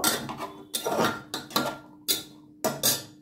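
Capsicum, yellow and green bell peppers, corn and peas being stirred in a pan for mushroom corn soup: several separate metallic scrapes and clinks of a utensil against the pan, close and spaced out, with brief quiet gaps between.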